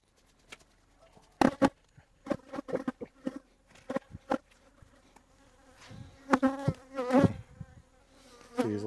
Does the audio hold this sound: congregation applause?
no